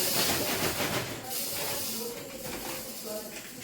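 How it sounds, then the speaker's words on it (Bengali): Milk coming to a boil in a pot, giving a steady steamy hiss with faint bubbling and a few clinks at a moderate distance. "দুধটা এই দেখো ফোটা শুরু হয়েছে"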